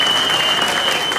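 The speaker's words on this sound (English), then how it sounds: "give her a round of applause" Loud, dense applause from a comedy show audience, an unbroken wash of clapping over its brief length.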